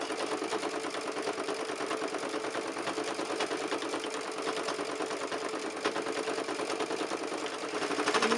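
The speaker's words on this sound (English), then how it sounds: "So here, I'll again just start stitching." A sewing machine stitching a quilted, fully lined tote bag, running in a steady fast mechanical whir with dense rapid needle clatter, continuous and close, no talking.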